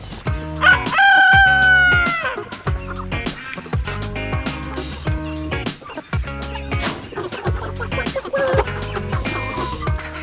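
A rooster crows loudly near the start, followed by scattered clucks and gobbling-like calls from several birds over a busy rhythmic background.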